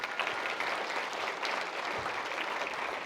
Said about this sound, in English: Y'all give Roy a round of applause